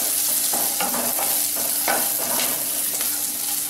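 Ginger, garlic and green chili fry in a pan for a mushroom kurma, giving a constant bright sizzle broken by regular scraping stir strokes, close and alone without speech.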